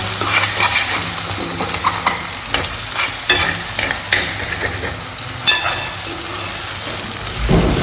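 Chicken frying in a pan, a continuous close sizzle broken by repeated clinks and scrapes of a stirring utensil against the pan.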